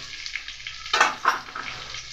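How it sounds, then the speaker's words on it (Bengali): Ground black pepper and other spices sizzle in hot oil in a pan for a spicy fish-bone curry, stirred by hand. A steady frying hiss runs throughout, with two louder scraping stirs close together near the middle and no talking. "তো দেখুন ভালো করে নাড়াচাড়া হচ্ছে"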